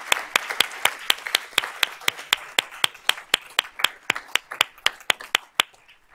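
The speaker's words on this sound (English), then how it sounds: "So let's give them all a round of applause." Applause for student award winners at a school board of trustees meeting comes as sharp, evenly spaced claps, close and crisp, that keep a steady beat for several seconds before stopping.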